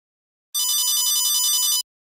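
A cell phone ringtone goes off in a classroom, a loud, steady electronic ring lasting just over a second and heard alone with no talking.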